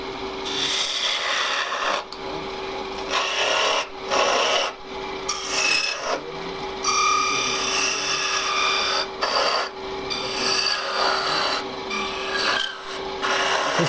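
A spindle gouge on a wood lathe spinning at about 1800 rpm cuts away wood from a wooden spin top. Close, continuous rasping and scraping comes in long bursts separated by brief pauses.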